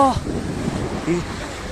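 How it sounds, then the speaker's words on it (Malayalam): Sea waves wash in steadily at Koyilandy beach, a constant broad rush of surf and wind close to the microphone, with brief voices at the start. "പേടിപ്പെടുത്തുന്ന നമ്മുടെ കടലിന്റെ സൗന്ദര്യം"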